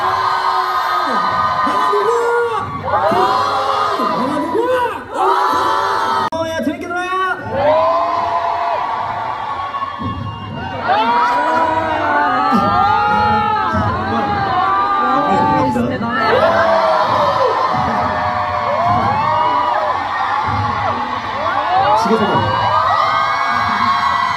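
A large concert crowd at an opening shouts, whoops and cheers loudly in overlapping waves, with high excited voices rising and falling throughout.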